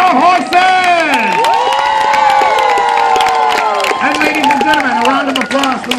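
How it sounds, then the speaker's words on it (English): Crowd at an outdoor jousting event cheering and clapping for the horses while an announcer speaks loudly over a PA, with shouts and whistles rising through the noise. "A round of applause for your horses."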